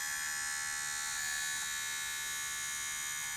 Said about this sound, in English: Sounds like the head is scraping on the cassette lid